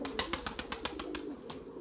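Pigeons in a breeding loft give a quick series of soft, rhythmic coos, about ten pulses in under two seconds, faint and close against a low steady background.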